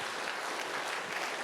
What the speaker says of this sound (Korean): 우리 하나님께 영광 박수 올려요